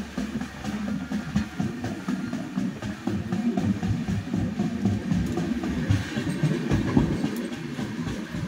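The Howrah-Patna Jan Shatabdi Express rolls past with a continuous low rumble and rhythmic wheel clatter on the rails, moderately loud and steady from start to finish, with no voices.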